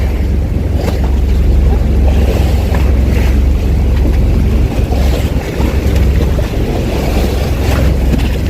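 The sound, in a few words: rough sea waves around a boat at El Nido, Palawan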